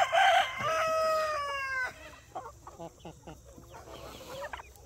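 Big, heavy homestead chickens crow loudly up close with harmonic calls in the first two seconds, then scattered clucks and softer squawks continue.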